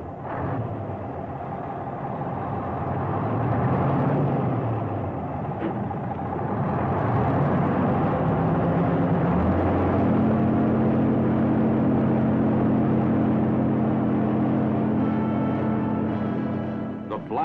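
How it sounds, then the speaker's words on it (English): Heavy logging truck diesel engines starting with an air starter in the cold, a rumbling crank and blast building into a steady low roar of engines idling close by. "The blast of the air starter is music to your ears."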